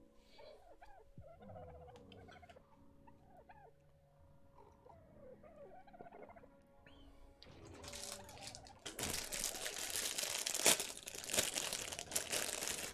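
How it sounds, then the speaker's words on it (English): A croissant wrapper crinkles and rustles loudly in bursts close to the microphone, with quieter cat-like mewing sounds before it. "Sorry about the rustling. Just gonna eat my croissant."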